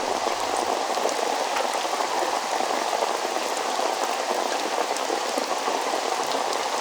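Steady heavy rain pours down outside a small shop, a dense, even hiss of drops drumming on surfaces that stays constant with no voices.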